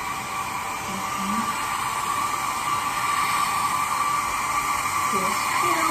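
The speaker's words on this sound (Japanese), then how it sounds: "もう一回ちょっとドライヤーします" A hair dryer blows steadily and close throughout as hair is styled backstage in a dressing room, a constant whooshing hum, with faint voices briefly underneath.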